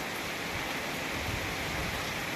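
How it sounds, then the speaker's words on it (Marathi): Heavy rain pours down in Satara district with strong wind, falling near a shed where wet goats are sheltering. A steady, dense hiss runs unbroken throughout, with no voices. "आज खूप पाऊस पडतो आहे"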